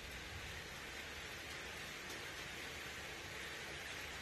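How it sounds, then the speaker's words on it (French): Steady rain pours down in a dense, even hiss with no pauses, a continuous wash of drops on surfaces close by. "Un beau son de pluie."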